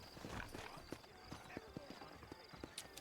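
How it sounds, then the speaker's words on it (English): Horse hooves clip-clop at an unhurried, steady pace through town in the Red Dead Redemption game, the rhythmic clopping fairly close, with soft voices and ambience underneath. "we do like a nice, relaxing horse ride"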